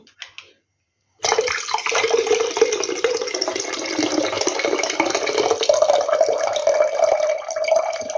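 Brine pours steadily out of the last jar of pickled tomatoes in a kitchen, a continuous splashing stream that starts after a brief silence and runs on alone, fairly close.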